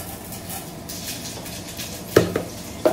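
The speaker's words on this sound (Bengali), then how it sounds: "এখন আবার একটু কম তেল দিয়ে রান্না শুরু করছি। পোস্তর সাথে রসুন ফোড়ন দিয়ে ডালটা খেতে খুব ভালো লাগে।" Poppy seeds and garlic are tempered in a little oil for dal, a soft sizzle running under sharp clinks of a utensil against the pan, several near the end.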